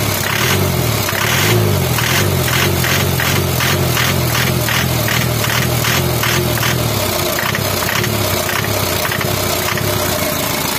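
A Daihatsu Taft F73 diesel engine revved with quick throttle blips, giving a loud, close, rhythmic clattering pulse over a steady low rumble.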